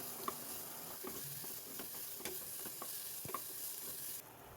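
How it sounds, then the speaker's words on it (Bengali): Chopped onion and garlic frying in mustard oil, a continuous soft sizzle broken by occasional spatula scrapes and light taps against the pan, with no one talking. "পেঁয়াজ আর রসুনটাকে অল্প ভেজে নেব।"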